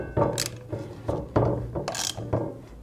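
Front wheel being tightened onto a custom pro scooter, heard as a quick run of ratchet clicks in short bursts, about six strokes with brief pauses, close and crisp.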